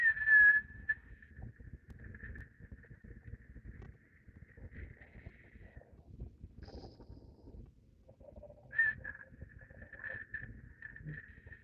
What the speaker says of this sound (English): See if you can find that childhood whistle you always had, right?